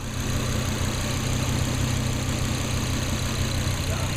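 A Volvo engine idles steadily just after a turbo install, a close, continuous rhythmic rumble with an even pulse throughout and no speech.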